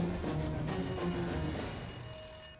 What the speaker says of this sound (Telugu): ఎవరో ఫోన్ చూసుకో